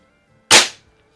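A single sharp crack from a Benjamin model 352 .22 caliber CO2 rifle fired at a target, one close report with a brief decay in otherwise quiet surroundings.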